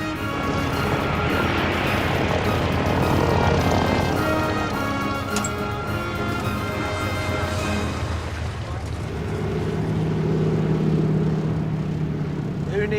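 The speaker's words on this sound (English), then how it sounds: "Who needs runways when you've got a seaplane?" A seaplane drones steadily throughout, a sustained engine roar that shifts slightly in pitch partway through, with no voices heard.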